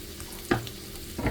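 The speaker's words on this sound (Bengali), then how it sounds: "এখন আমি টমেটোর সাথে মাংস দিয়ে দেবো।" Meat added to tomatoes frying in a pan, with a low sizzle and a couple of soft stirring scrapes, close but quiet.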